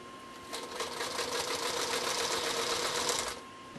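Sewing machine stitching along quilt edges, a steady rapid mechanical chatter of the needle running for about three seconds, close and clear with no talk.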